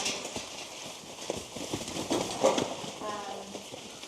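Horses' hooves clop on hard ground as rescued horses are moved into a squeeze chute for intake, irregular clattering steps at moderate distance, with people talking over them.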